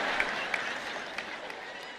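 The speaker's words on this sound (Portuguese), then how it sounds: "soou como alguém começando a aplaudir, depois desistindo, parando" Faint, brief scattered clapping from an audience at a Bible study talk, a few hesitant claps starting and then trailing off against a hushed room.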